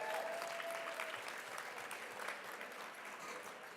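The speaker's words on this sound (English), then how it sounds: "Can we get an applause for that?" Dense, moderately distant applause from a dinner audience rolls on steadily, a broad wash of many hands clapping in a large room with no one speaking over it.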